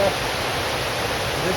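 A waterfall near a nature trail roars steadily as a close, loud, unbroken broadband rush that fills the whole stretch without pause.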